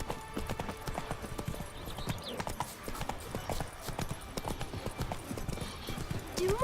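Hooves of the horse Roach clatter in a fast, steady gallop in the video game The Witcher 3. The dense clip-clop runs close and unbroken for the whole stretch.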